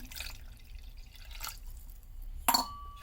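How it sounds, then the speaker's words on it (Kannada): Half a cup of water is poured into a pan of rava mix during home cooking, heard as soft, quiet splashes and drips with one sharper splash near the end, and no talking. "ಅರ್ಧ ಕಪ್ಪಷ್ಟು ನೀರು ಹಾಕೋಬೇಕು."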